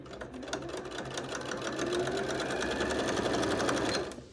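A sewing machine stitches bias binding onto a children's bedspread, running in a steady, continuous rapid whir close by for the whole stretch, with no talking.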